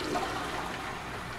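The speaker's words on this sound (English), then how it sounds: "Flush the toilets." A toilet flushes in the video game Prey, a brief close rush and swirl of water that fades gradually, with no talking.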